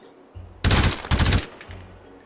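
Two loud, close suppressed shots from an AR-15 pattern rifle in the shooting game H3VR, each a dull broadband thump with a short tail, fired about half a second apart over a low ambient hum.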